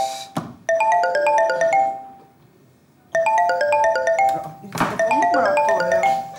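A mobile phone ringtone plays its bright, repeating electronic melody in two long bursts separated by a short pause, clear and fairly close, on a comedy sketch stage with brief sharp noises between the bursts.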